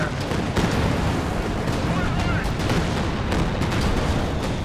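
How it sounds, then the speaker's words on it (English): Artillery barrage in the World War II strategy game Company of Heroes 2, a dense, continuous roar of booming shell impacts and rumbling blasts that holds loud from start to finish, with a voice faintly mixed in. "Drops the artillery!"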